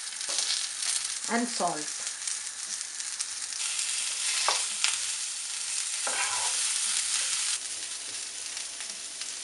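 Cauliflower florets lightly frying in oil in a pan, a steady broadband sizzle throughout, with a voice briefly speaking near the start.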